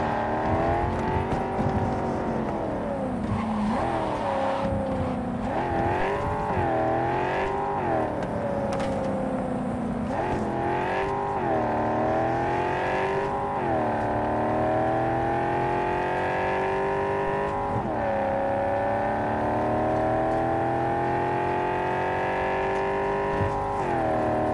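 A car driven in Cyberpunk 2077 with its engine revving and shifting pitch repeatedly, rising and falling as it accelerates, loud and continuous with no talk over it.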